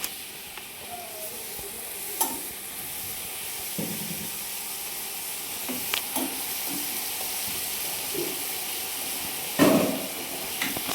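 Boiled chicken fries in a pan of masala, giving a steady sizzle and hiss broken by several sharp clatters and scrapes as it is stirred, heard close and alone.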